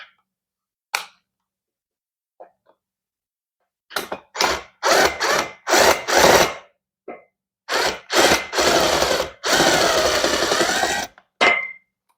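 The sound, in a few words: power drill driving screws into a metal bed frame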